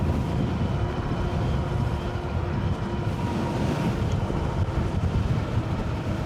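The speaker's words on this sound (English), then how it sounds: "Sometimes this wind is crazy." Strong, steady wind in open Wyoming country, roaring and buffeting against the microphone without a break for the whole stretch, with no voices over it.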